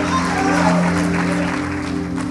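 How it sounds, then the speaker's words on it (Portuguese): Worship congregation applauding in a church during a sermon, a continuous wash of clapping blended with a steady sustained musical drone underneath, fairly loud and close throughout. "Aleluia, aplauda Ele."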